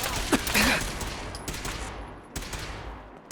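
Gunfire in Fallout 4's Nuka-World: a quick burst of sharp shots and a crackling fusillade, with faint voice-like game sounds early and a few later impacts fading out.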